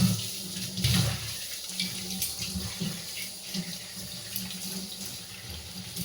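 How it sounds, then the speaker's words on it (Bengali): Food is washed under a running kitchen tap, a steady close stream of water splashing into a sink with small shifts as the items are moved and rinsed, no voices. "এখন এগুলো আমি এখন ভালো করে একটু ধুয়ে টুয়ে নেব, নিয়ে তারপরে রান্না করব। পরিষ্কার করে ধুতে হবে।"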